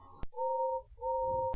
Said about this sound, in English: the conductor blew his whistle, and Gordon puffed respectfully away